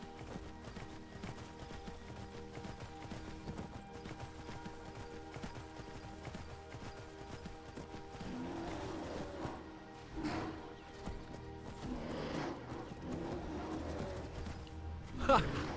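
Horse hooves clip-clop in Skyrim, a steady quiet walking rhythm under ambient game sound, with a few louder thuds and movement noises toward the end.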